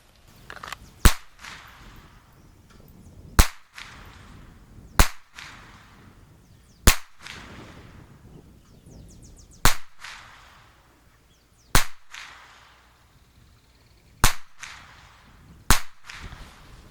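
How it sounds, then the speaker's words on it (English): Seven sharp pistol shots from a Sig Sauer P6 at a shooting range, each a loud crack with short echo, fired at irregular intervals a couple of seconds apart. "That was probably the first shot right there with a longer, harder trigger pull."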